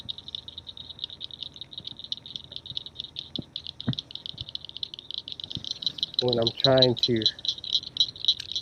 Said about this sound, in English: hear all these frogs.